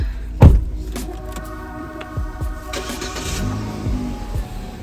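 A car started outdoors on an icy cold day: a sharp thump, then the engine catching and settling into a low idle with faint mechanical whirring, close by, no speech.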